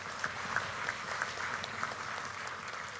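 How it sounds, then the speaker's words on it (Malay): Delegates at the UMNO general assembly applaud the coalition partner MCA, a steady, even wash of many hands clapping with a few faint tonal blips above it. "MCA, tepukan untuk mereka"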